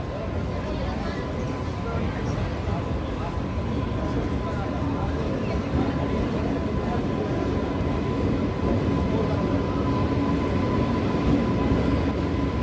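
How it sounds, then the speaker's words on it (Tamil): Loud, steady rumble of the Nagercoil–Tambaram Antyodaya Express hauled by a WAP7 electric locomotive rolling into the second platform at Madurai station, with a constant tonal hum throughout and a voice talking over it. "அந்தியோதயா எக்ஸ்பிரஸ் பார்த்திங்கன்னா ஆன் டைமுக்கு மதுரையோட செகண்ட் பிளாட்ஃபார்முக்கு வந்துட்டுருக்கு"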